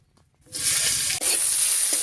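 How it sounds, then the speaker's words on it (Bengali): After a brief quiet moment, chopped onion hits hot mustard oil over a whole-spice tempering with a sudden loud, close sizzle that holds steady, broken by a quick stir. "এবারে দিয়ে দিচ্ছি পেঁয়াজ কুচি"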